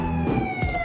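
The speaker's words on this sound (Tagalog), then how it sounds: "may sirena." A short siren sound effect plays on a TV variety show, a steady wailing electronic tone that sits over busy background noise for under a second.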